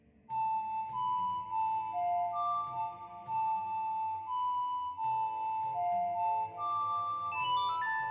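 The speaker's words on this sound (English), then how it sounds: "So, whip out your ocarina." Ocarina melody from the video game Zelda: Majora's Mask 3D, a clear sustained tune of pure flute-like tones playing steadily over a soft backing accompaniment, with no talking.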